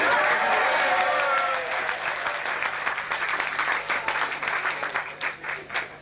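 Guests at a wedding reception break into applause during a speech, a loud burst of dense clapping that gradually thins into scattered individual claps, with some crowd murmur and voices underneath.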